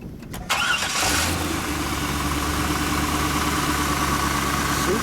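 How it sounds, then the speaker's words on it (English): A 1998 Chevrolet Corvette Indy 500 Pace Car's 5.7-litre V8 cranks and catches with a burst, then settles into a deep, steady idle rumble close by, running smoothly to the end. "Let's start her up."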